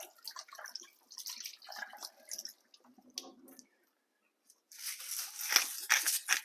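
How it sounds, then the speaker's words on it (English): Hands are washed under a kitchen tap between stages of cooking spicy meatballs, first with intermittent splashes and squishing, then a brief pause, then a fuller, steady rush of running water close by. "I'm going to quickly wash my hands"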